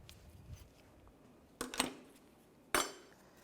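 A pry bar levers a brake caliper clip off a 2004-2010 BMW X3 front wheel hub, giving two sharp metallic clinks and scrapes, close and clear against a quiet background.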